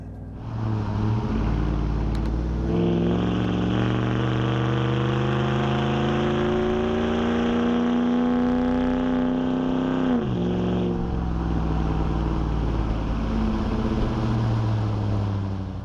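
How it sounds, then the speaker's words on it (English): Dodge Ram HEMI V8 truck with Flowmaster dual exhaust, idling deep and throaty before a long, loud rev that climbs and holds, then drops sharply back to a rumbling idle. "Like, listen to it. It's just really deep and throaty."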